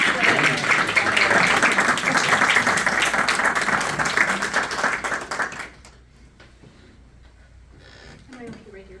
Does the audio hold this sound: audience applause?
yes